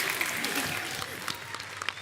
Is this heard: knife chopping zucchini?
no